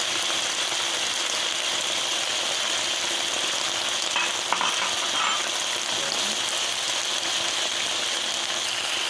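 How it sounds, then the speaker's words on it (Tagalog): Luncheon meat sizzles in a hot pan while fried rice is made, a steady dense frying hiss with crackle running unbroken and fairly loud, with no voices. "Lagay natin yung luncheon meat."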